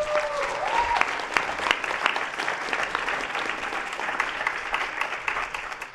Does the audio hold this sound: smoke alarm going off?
no